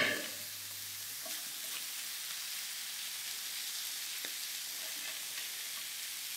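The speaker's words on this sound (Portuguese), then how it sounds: "Vou saltear também, juntar, envolver bem com os cogumelos." Mushrooms sauté in a frying pan with a soft, constant sizzle and a few faint stirring clicks, heard alone at low volume.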